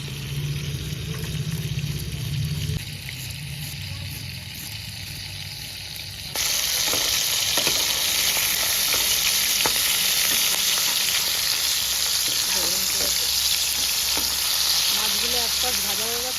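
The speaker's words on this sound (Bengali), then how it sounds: "মাছগুলো এক পাশ ভাজা হয়ে যাচ্ছে, আর এক পাশ ভাজা করে দিচ্ছি।" Prawns fry in oil in a pan for a lemon prawn dish, a steady sizzle that turns louder and brighter partway through, with occasional stirring clicks and spatters.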